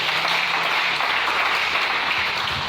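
A church congregation applauds and cheers in praise of the Lord, with loud, continuous clapping that fills the room evenly from start to finish.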